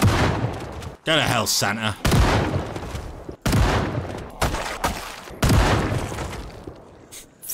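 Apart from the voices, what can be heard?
shotgun fire against zombies in a video game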